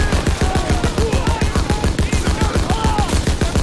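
Rapid, loud machine gun fire from the Call of Duty WW2 campaign hammers out in an unbroken, evenly spaced burst, with faint game sounds mixed beneath.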